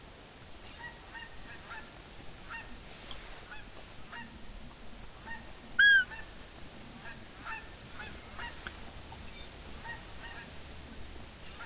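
Geese honk outdoors in a hunting game's open countryside, scattered distant calls repeating across the scene with one louder, closer honk standing out midway.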